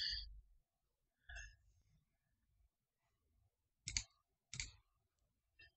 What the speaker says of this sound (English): Now send the event by clicking.